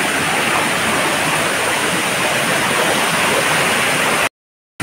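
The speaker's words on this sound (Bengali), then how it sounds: "সব ঝর্ণা।" A waterfall roars with a steady, dense wash of falling water, close and loud. The sound is unbroken until it cuts out abruptly near the end.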